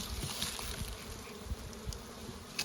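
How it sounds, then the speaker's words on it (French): Honeybees buzz steadily inside an opened hive during a winter check, when they come to feed on candy placed the week before; the close, continuous hum carries a few soft knocks and bumps and no talk. "on ouvre la ruche. Les abeilles sont venues manger le candy qu'on leur a mis la semaine dernière"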